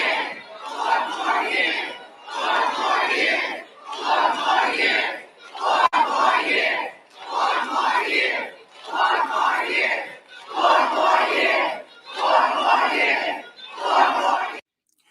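A large protest crowd roars with cheering and shouting in long, loud surges, about eight distinct waves separated by brief lulls.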